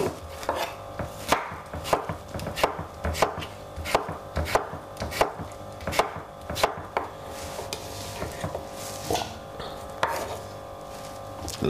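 Knife dicing cucumber on a cutting board, a series of crisp, close chopping taps in an irregular quick rhythm, some in rapid bursts, with no talking.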